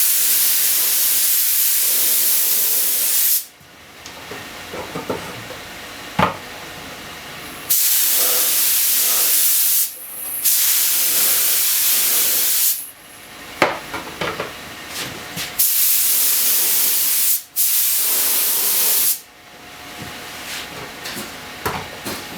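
Spray finish being applied to a Zenith table radio during restoration, several long bursts of loud steady hissing from the sprayer, each a few seconds long, separated by short quieter pauses with faint handling sounds.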